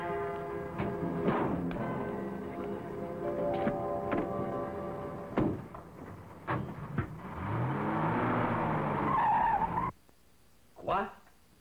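A car speeds off with tires skidding and squealing, a rising screech building over engine noise and clatter before a sudden cut, followed by a brief whoosh; music and voices play underneath.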